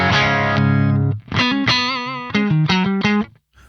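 An electric guitar played through a real Soldano SLO100 tube amp gives a heavily distorted, sustained chord followed by a quick run of choppy, bright overdriven notes, loud and close.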